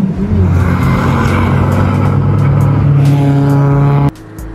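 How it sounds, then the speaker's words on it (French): A Porsche Cayman S accelerates hard on the Le Castellet driving circuit, its engine note climbing steadily and loud for about four seconds before abruptly dropping off near the end. "On ouvre doucement et on accélère."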